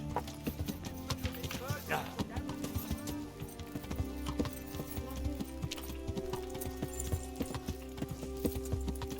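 Horse hooves clip-clop in the medieval video game Kingdom Come: Deliverance, a steady rhythm of close, distinct hoof strikes with a brief whinny, while someone talks over it.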